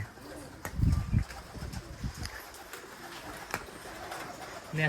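Giribaz flying pigeons at a pigeon farm, soft low cooing in a few short bursts near the start, then faint calls and light ambient rustle.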